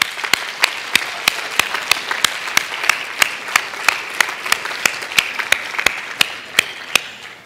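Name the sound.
congregation applause for fathers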